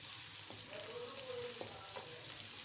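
Finely chopped chicken frying in a pan for spaghetti, a soft, steady sizzle with a few light clicks of stirring, quiet and close, without any talk.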